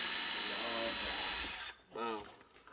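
A steady high-pitched right angle drill whine runs continuously for over a second, then cuts off, followed by a brief burst of nearby talking.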